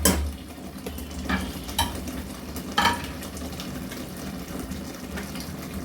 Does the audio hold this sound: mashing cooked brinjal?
yes